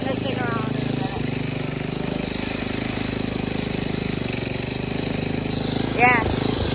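A Simplicity Serf 515 lawn tractor engine runs steadily at a loud, even idle-like drone, with a brief squeaky mechanical sound near the end.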